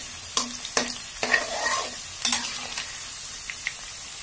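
Potato pieces fry in mustard oil while a spatula stirs them, giving a steady close sizzle broken by several sharp scraping knocks spread through the few seconds.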